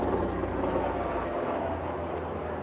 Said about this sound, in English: That is a loud helicopter.